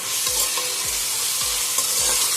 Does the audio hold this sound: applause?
no